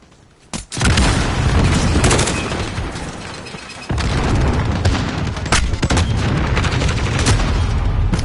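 AK rifle gunfire in the Modern Warfare video game: loud, dense bursts of automatic fire and booming blasts that run almost continuously, with a brief pause near the start.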